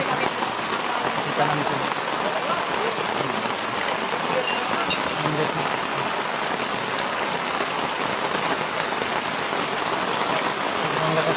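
Heavy rain pounds down in a dense, loud, continuous roar of drops, while people talk casually over it.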